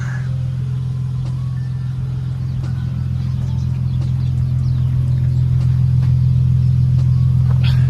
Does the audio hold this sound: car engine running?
yes